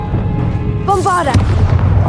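A single loud boom from the Bombarda spell in Hogwarts Legacy, a short burst near the middle after a voice calls out the spell, over steady game background.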